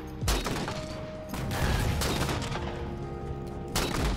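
Bursts of rapid gunfire in a Halo game rattle out in several volleys, loud and dense, with brief pauses between them and no talking.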